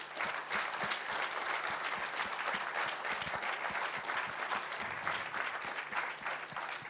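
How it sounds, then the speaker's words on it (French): Closing-ceremony audience applause, a sustained dense wash of many hands clapping at even loudness throughout, with no voices over it. "Donc, applaudissements pour vous,"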